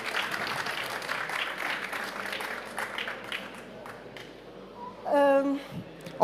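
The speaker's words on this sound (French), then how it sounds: "Je pense que vous pouvez quand même l'applaudir chaleureusement" Audience at the Onze Bis Festival 2024 applauds warmly in a dense, sustained wash of clapping that gradually thins out, followed by a brief tonal sound near the end.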